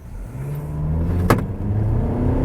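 A 2019 Mitsubishi Outlander Sport accelerates in DS Sport mode; its engine drone climbs steadily in pitch, with one brief sharp click or knock partway through.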